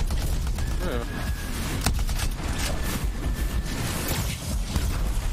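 Dense, continuous gunfire and blasts ring out as a character hovers and shoots in the Anthem video game, loud and close, with voices talking over it.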